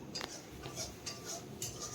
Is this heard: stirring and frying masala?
yes